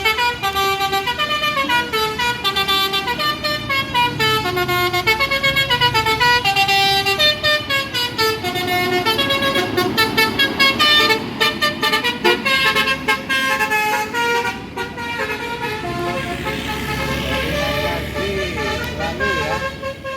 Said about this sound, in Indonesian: Ini ada truk Pertamina ya, pakai telolet.